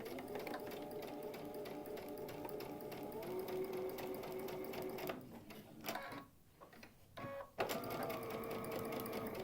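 Sewing machine stitching a quilt block, running in a steady fast whir for about five seconds, then pausing and restarting in short bursts, close by with no talking.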